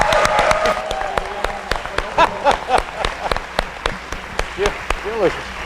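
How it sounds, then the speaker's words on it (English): Audience members at a Maryland arts conference clap for Jim in scattered, distinct claps rather than a full roar, with voices murmuring and calling out among the hands. "round of applause for Jim"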